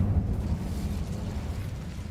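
Incendio fire spell blast in Hogwarts Legacy, a deep rumbling whoosh of flame that starts loud and close and holds as a low, rolling roar for a couple of seconds.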